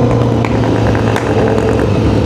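A Honda CBR1000RR-R Fireblade SP ridden at night through a lively town, giving a loud, continuous engine roar with wind noise and steady low rumble and no voices.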